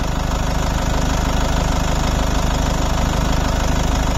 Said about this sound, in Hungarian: hogy meghallgassátok, hogy zenél benne a motor